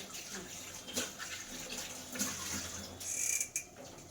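Someone bathing makes faint, scattered water splashes over a quiet background, with a slightly louder burst of splashing near the end.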